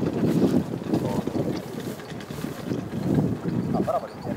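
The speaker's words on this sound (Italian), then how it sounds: "Adesso un po' di vento c'è." Gusty wind blows across an airfield near the helicopter pad, buffeting the microphone with a continuous low rumble that rises and falls in surges.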